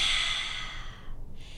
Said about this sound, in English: Big breath out through the mouth.